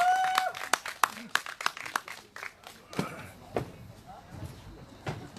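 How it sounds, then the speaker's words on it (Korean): Scattered hand claps from a small outdoor audience welcoming a speaker at a candlelight rally in Seongju, irregular and moderately close, thinning out with a murmur of voices. "큰 박수로 맞이해 주시면 좋겠습니다"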